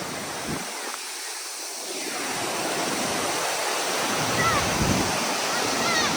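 Powerscourt Waterfall in County Wicklow, Ireland, pours and sprays as a steady, loud broadband roar of falling water that swells slightly, with no break throughout.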